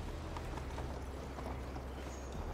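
A horse's hooves clip-clop steadily in Assassin's Creed Valhalla as the rider sets off on a long journey, a continuous soft rhythmic trot under ambient outdoor game sound with no talking.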